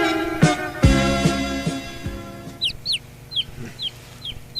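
Chickens cluck in a short, irregular run of calls, with high chirps from nearby fowl in the background and a few low knocks and thumps early on; no one speaks.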